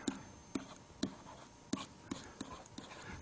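A pen writes a fraction by hand in short, quiet strokes, with about eight brief taps and scratches spaced unevenly in a calm room and no voice.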